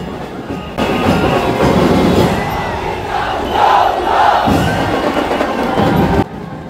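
A dense crowd roars at the Kalachowki Mahaganpati arrival procession in 2025, a loud, sustained wash of voices and cheering that swells and dips throughout.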